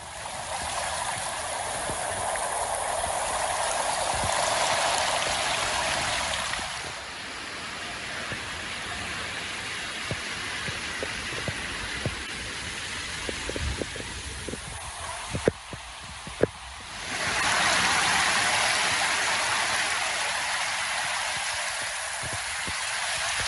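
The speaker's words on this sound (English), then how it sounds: "rains with varied intensity, which led to some wadis and their tributaries to overflow" A rain-swollen wadi stream in the wilayat of Sama'il, Oman, overflowing after heavy rains, gives a steady broad rush of flowing water. It swells louder at the start and end and eases in the middle, where faint splashes and knocks come through.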